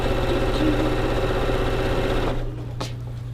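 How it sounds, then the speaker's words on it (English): Close, steady mechanical whir of a sewing machine running a long quilt seam on a churn dash quilt, stopping abruptly near the end with a short sharp sound after. "And now we're going to sew a very long seam."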